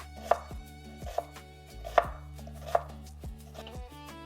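Onions being chopped on a cutting board with a knife while preparing a lamb tagine: about five sharp, close knife strikes at an uneven rhythm, alone with no talk.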